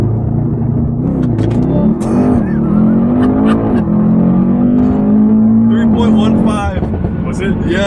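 A 2019 Mercedes-AMG E63S accelerates hard from a standstill, its engine roar loud and close, dipping briefly before climbing steadily in pitch for several seconds.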